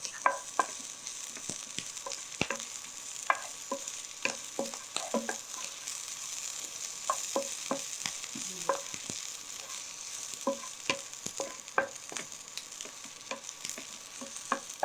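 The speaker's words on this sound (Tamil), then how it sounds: "இதிலே நல்லா பொடியாக நறுக்கியிருக்க பச்சை மிளகாயை ஆட் பண்ணிக்கலாம்." Finely chopped green chilies and garlic sizzle steadily in hot ghee, with frequent sharp taps and scrapes of a spoon stirring the pan, close and continuous throughout.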